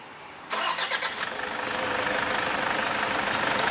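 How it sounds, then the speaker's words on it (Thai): A car engine, just after a timing belt replacement, cranks briefly with rapid pulsing, then catches and settles into a loud, steady idle. "ว่าเครื่องยนต์สตาร์ทปกติไหมครับ"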